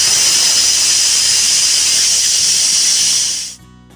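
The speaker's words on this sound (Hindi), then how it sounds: "1 सीटी आ गई थी, प्रेशर निकल गया है।" A pressure cooker cooking rice vents steam in one loud, steady hiss that holds for several seconds and then cuts off abruptly, leaving a faint low rumble.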